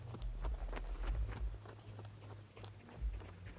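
Young horse walking under saddle during groundwork training, soft rhythmic hoof thuds on the ground at a steady walking pace, fairly quiet and close.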